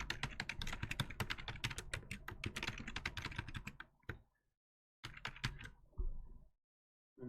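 Quick, close clatter of keys on a computer keyboard as a password is typed, a dense run of keystrokes that stops, then a shorter burst and a few final taps.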